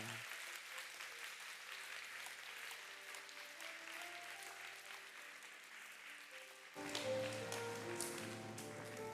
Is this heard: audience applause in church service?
yes